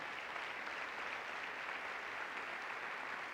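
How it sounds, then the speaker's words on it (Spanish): A church congregation applauds together, a steady, even wash of clapping that holds at one level from start to finish with no voices above it. "Denle el aplauso al Señor."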